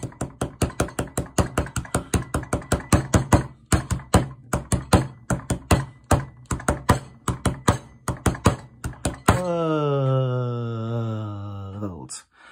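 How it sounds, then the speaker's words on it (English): A rhythm of semiquavers tapped out by hand in a music lesson: quick, even runs of sharp knocks in steady groups of four, close and clear, ending in a sustained musical tone. "What would this rhythm sound like if we tapped it?"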